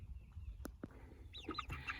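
Freedom Ranger meat bird chicks peep and chirp in short, high bursts, clustered near the end, over a low background rumble in a chicken and rabbit tractor.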